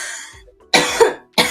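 Several close, harsh coughs in quick bursts after smoking an HHC and THCA cannabis product, with a short pause between the first cluster and a final cough, no speech.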